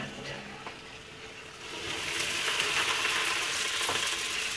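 Breadcrumbs and garlic fry in hot oil, a close, steady sizzle and crackle that swells louder and denser partway through and then holds.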